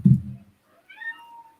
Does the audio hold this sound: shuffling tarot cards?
no